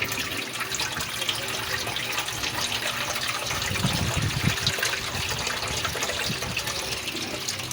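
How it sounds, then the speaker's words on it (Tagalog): Water runs and splashes steadily into a pot for cooking cassava suman, a continuous pouring sound with a slight swell midway, heard alone without speech. "Lagyan na natin ang tubig."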